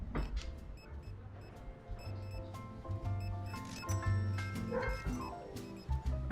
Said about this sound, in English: keep hearing the dogs keep barking at things